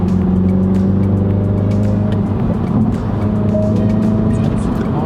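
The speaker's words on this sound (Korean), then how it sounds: "이 모드를 바꿨을 때 윙 하고 엔진음이 조금 바뀌는 거를 들으실 수 있을 거예요" Mini Cooper JCW 3-door, 231 horsepower, drives along at steady speed with a constant engine hum and drone under road and wind noise, and the tone shifts only slightly.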